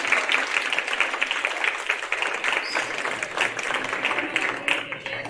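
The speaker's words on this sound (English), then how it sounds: "Let's do one more round of applause for all of the" Audience applause fills an exhibit hall pocket pet show, dense steady clapping from a crowd lasting the whole stretch, with some faint voices mixed in.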